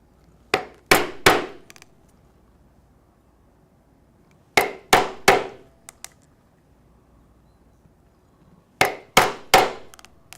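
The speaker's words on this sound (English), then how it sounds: "I will punch the holes for my rivets using the 1/8 inch punch" A 1/8 inch punch struck with a hammer to make rivet holes in leather for a watch band, heard as three groups of three or four sharp, close knocks separated by quiet pauses.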